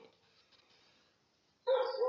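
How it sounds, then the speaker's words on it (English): A dog barks loudly near the end after near silence, a short burst of two quick barks close by. "if you hear a barking, it's my dog"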